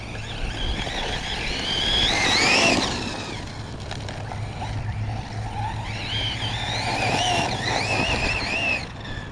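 An Arrma Typhon 6s RC car, fitted with 300k diff fluid, runs over bumpy ground at full throttle, its high electric motor whine rising and falling in two surges with steady background hum.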